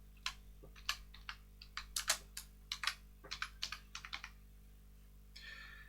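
Quick bursts of keystrokes on a computer keyboard as a publisher's name is typed, clattering clicks in an irregular rhythm with short pauses, close and fairly quiet over a low steady hum.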